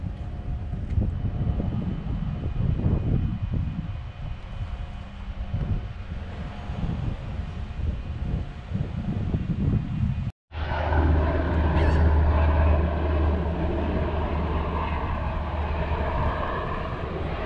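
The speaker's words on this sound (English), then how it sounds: "Chopper pilots practicing over here at the Naval." A loud, continuous aircraft engine drone with wind buffeting the microphone. After a brief cut, a deep, throbbing low rumble of helicopters overhead near a naval base takes over, close and sustained.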